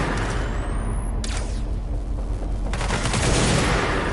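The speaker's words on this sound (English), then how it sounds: "I'll shoot you in your fucking head." Rapid gunfire in the video game Control, a dense continuous burst of shots running through the whole stretch, loud and close with a sharper flurry near the end.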